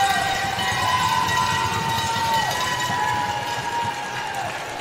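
Crowd at a college men's basketball quarter-final game making loud, sustained noise before a free throw: steady roaring and shouting with whistle-like tones over the top, continuous for several seconds.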